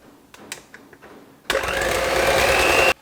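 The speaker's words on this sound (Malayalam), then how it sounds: "എന്നിട്ട് വീണ്ടും നമുക്ക് ബീറ്റർ ഓൺ ചെയ്തിട്ട് ഒന്ന് മീഡിയം സ്പീഡിലിട്ടിട്ട് ബീറ്റ് ചെയ്യാം." An electric hand beater runs at medium speed through apple sauce banana bread batter, a steady loud whirring motor drone for about a second and a half before cutting off, following a few soft kitchen knocks.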